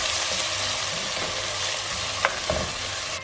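Onions frying on medium heat in a pan, a steady loud sizzle close up with a couple of brief stirring scrapes near the end.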